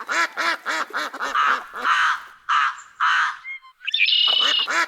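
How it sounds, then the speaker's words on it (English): Several birds call close by: repeated harsh crow caws, a run of nasal duck quacks, then a high buzzy red-winged blackbird trill at the end. "A crow, that makes this sound. A duck, which makes this sound."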